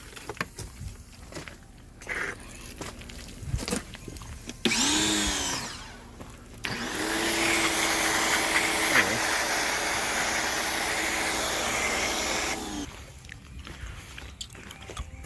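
A pressure washer pump sprays foam onto a car, giving a loud steady hissing roar for several seconds after shorter bursts and rising pump whine, with a voice briefly talking in between.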